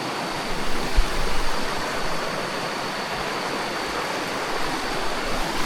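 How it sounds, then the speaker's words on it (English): River water rushes steadily and close by as someone wades across a forest river. It is a continuous, full hiss of flowing water with no talking. "I'm here just crossing rivers."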